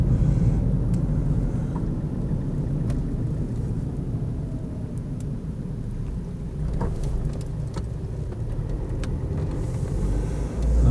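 A Land Rover Freelander 2.0 diesel station wagon drives along steadily, its low, continuous engine and road rumble heard from inside the car, with a few faint clicks and rattles over the top and nobody speaking.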